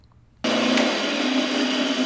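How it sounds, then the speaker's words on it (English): A brand-new spindle sander shaping a walnut spoon starts abruptly and then runs with a steady loud whirring hum and gritty abrasive hiss, close and alone. "this spindle sander is actually brand new, and I have to say it really made quick work of getting this shape refined"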